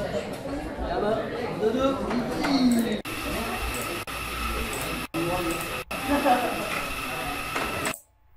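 Indistinct chatter of many people fills a busy cafe, steady murmuring voices with a few cuts between segments.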